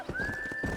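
A horse in Red Dead Redemption gives a short, shrill whinny, close and clear over faint hoofbeats, lasting under a second with no voices.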